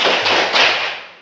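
A classroom of primary school pupils claps a short, loud patterned rhythm together, a few sharp taps merging into a dense burst that fades quickly, with voices mixed in.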